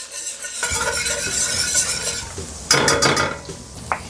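Ingredients being stirred in a pan over a low flame while making lobster rolls, with a steady scraping stir, faint sizzle and a few utensil clinks against the pan, no talking.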